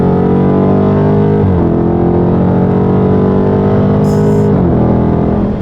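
A car accelerates hard through the gears just after an oil change, the loud engine climbing steadily in pitch with two brief shift dips. A short high-pitched burst of noise sounds near the end.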